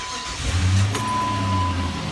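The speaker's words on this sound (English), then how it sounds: "You're going to start the vehicle." A car engine cranks and catches, settling into a low steady idle up close, during an oil change.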